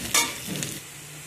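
Chopped garlic and onion sizzle in a hot pan, starting with a brief bright hiss and a stirring scrape, then settling into a quieter, steady frying sound nearby.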